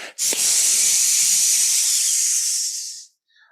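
A voice imitates a pressure cooker venting steam: one long, loud, even hiss runs for about three seconds and then cuts off sharply into quiet.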